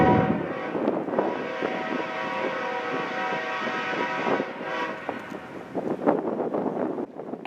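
An eastbound CSX intermodal freight train with CP locomotives rolls past at Fostoria, a loud steady rumble of wagons under a blaring multi-tone horn that sounds the shave-and-a-haircut rhythm in long and short blasts.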